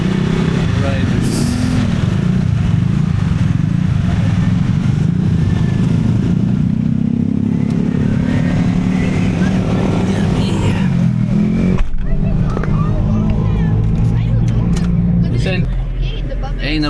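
Motorcycles from a large group of riders rumble steadily close by in Tanay, a continuous low engine drone with passing traffic and a shift in tone partway through, voices faintly mixed in.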